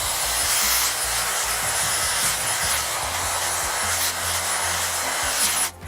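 A Dyson Airwrap blow-drying hair gives a loud, continuous rushing whoosh of air that holds steady close to the microphone and then cuts off abruptly at the end.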